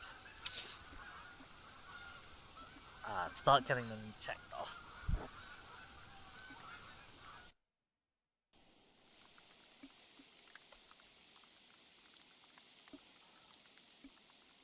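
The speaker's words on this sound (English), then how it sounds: "Get away from those geese." Geese honking in the hunting game TheHunter: Call of the Wild, a burst of loud, close calls among a steady outdoor ambience, with someone speaking briefly and a quieter, distant stretch of birds afterward.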